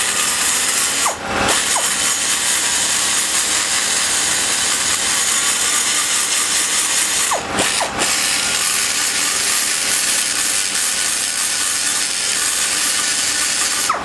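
A rotary cutter running at slow speed while porting a chamber gives a continuous rasping grind, broken by two brief pauses as the tool is lifted from the work, then resumes.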